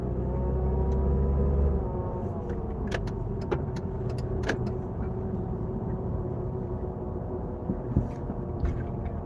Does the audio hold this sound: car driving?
yes